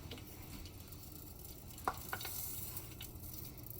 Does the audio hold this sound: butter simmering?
yes